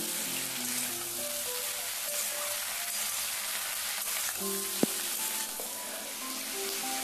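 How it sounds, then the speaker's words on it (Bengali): Vegetable chorchori made from leftover vegetable parts sizzles steadily in a covered pan, a dense even frying hiss throughout, with one brief clink of a lid or spoon partway. "আমি এখন রান্না করছি আর মাঝে মাঝে আমি চাপা খুলে নাড়াচাড়া করে দেব।"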